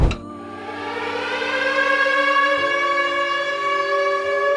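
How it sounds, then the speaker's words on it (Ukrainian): A loud, steady air raid siren wails over the city on one sustained rising tone, close and unbroken, with no voices. "По місту лунає сирена."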